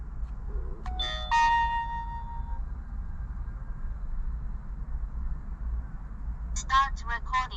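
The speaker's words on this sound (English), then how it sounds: "You pop it in, you hear the chime, and then it says starts recording." A Mangoal dashcam in a BMW 2 Series coupe gives a bright electronic chime when inserted, a couple of ringing tones early on, followed by a short voice prompt later over a low background hum.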